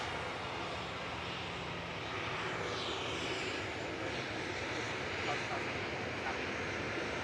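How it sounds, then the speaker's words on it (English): TUI Dreamliner lining up for departure at the runway, a faint distant engine hum beneath light background noise, with a voice talking over it. "First one going is the Tui Dreamliner GTAWI lining up now from Victor Bravo"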